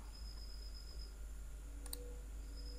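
A single computer mouse click, a faint sharp tick against a steady electrical hum in a quiet room.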